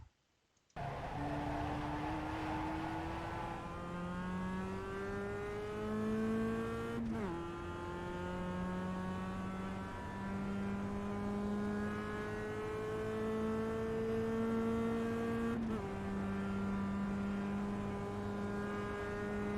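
Simulated engine of a 2010 Global MX5 Cup car lapping VIR in the iRacing game, a loud steady drone whose pitch climbs through each gear, with two sharp shift drops, alone without talk.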